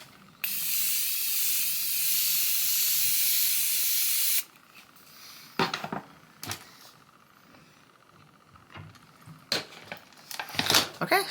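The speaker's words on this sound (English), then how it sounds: "just set it with some setting spray. So I'm just gonna go ahead with the Morphe Continuous Setting Mist." A long steady hiss of Morphe Continuous Setting Mist sprayed close up for about four seconds, then quiet handling clicks and rustles of makeup items.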